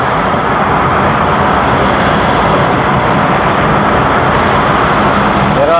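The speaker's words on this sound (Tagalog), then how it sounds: "Dinadaanan lang tayo ng mga ibang sasakyan." Vehicles on the SLEX expressway in Luzon rush past, heard from inside a moving car as a loud, continuous broadband road roar and wind rumble that never lets up.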